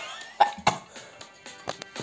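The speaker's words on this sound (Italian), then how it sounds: "Sto morendo con sta tosse" Two sharp coughs close up, followed by a few softer coughs and throat sounds spread over the next moments, while playing Stumble Guys.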